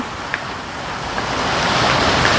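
Rain falls steadily as a continuous broadband hiss, swelling slightly louder toward the end, with no voices.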